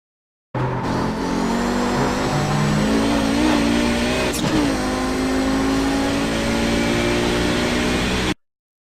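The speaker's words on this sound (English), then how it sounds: "just listen to what the engine does through here" An Audi 90 GTO race car roars around Road Atlanta in the iRacing game, its loud continuous engine note rising and straining, with a sharp jolt partway through as it crosses bumps.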